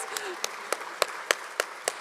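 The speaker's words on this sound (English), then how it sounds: "please give him a round of applause" Sparse, evenly spaced claps ring out at an awards ceremony for student leaders, about seven distinct hand claps in two seconds, fairly faint and isolated rather than a full crowd ovation.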